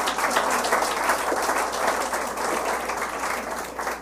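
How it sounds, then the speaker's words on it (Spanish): Sustained applause from a church congregation fills the space, a dense wash of many hands clapping steadily and fairly loudly throughout, easing slightly at the end with no talk over it. "Yo quiero darle un aplauso al Señor por esa obra de la gracia."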